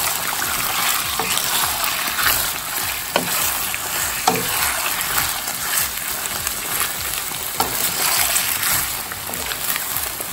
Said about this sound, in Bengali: এই পর্যায়ে চিকেনটাকে একটু ভেজে নেওয়া হচ্ছে।